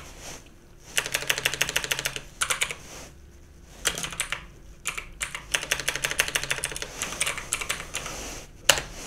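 Close, crisp typing on a computer keyboard comes in several quick bursts of clicking, with short pauses between them and no talking.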